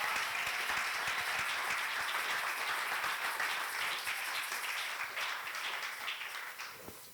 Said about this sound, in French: Est-ce que nous pouvons acclamer très fort pour le Seigneur?